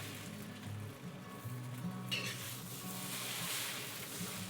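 Beef ho fun noodles being stir-fried slowly in an iron wok on a home stove, a steady soft sizzle with faint scraping throughout, fairly quiet and without talk.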